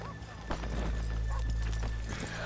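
Horse hooves clopping at a steady pace in Red Dead Redemption 2 over a constant low rumble, with a brief whinny-like call near the start.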